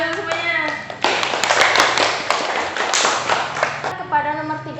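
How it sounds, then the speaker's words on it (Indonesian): A classroom group claps hands together during a lesson, a dense burst of close, overlapping claps lasting about three seconds, with voices talking just before and after. "Tepuk tangan dulu semuanya."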